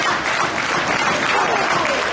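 A wrestling crowd cheers and applauds continuously, a loud, dense wash of clapping and shouting with a commentator talking over it.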